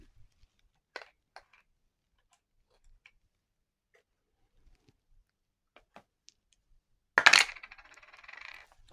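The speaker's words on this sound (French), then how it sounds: "Donc on va jeter les dés sur celle-ci." Dice from a wargame clatter and rattle across a hard surface, loud and close, after a few quiet clicks and taps.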